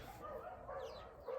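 A brief, faint burst of dog barking and yipping, a couple of quick sounds set against a quiet background.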